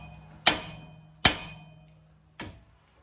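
A hammer strikes an aluminum steering knuckle on a Buick Enclave or GMC Acadia during outer tie rod replacement, three sharp metallic smacks spaced about a second apart, the last one softer, each ringing briefly, with no talking.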